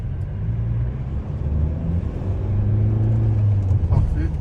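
A Mercedes V-Class 300d Exclusive diesel van accelerates quickly, heard from inside the cabin as a steady low rumble whose engine note rises and holds as speed builds. Quiet voices sit under the engine.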